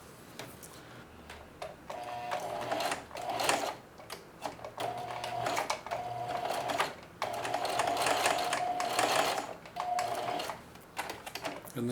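A sewing machine back-stitches apron straps in several bursts of steady whirring, separated by short pauses and small handling clicks, close and fairly loud.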